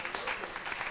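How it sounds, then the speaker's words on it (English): Brief burst of audience applause at a Petroleum Authority of Uganda event on the country's oil sector, a dense patter of clapping lasting about a second with a faint voice mixed in. "Please give him a round of applause."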